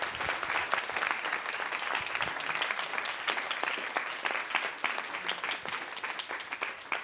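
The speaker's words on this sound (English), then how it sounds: "I wanted everybody to raise their hands and give her a round of applause" An audience at a summer college intern presentation gives a sustained round of applause, with dense, steady clapping that continues without a break.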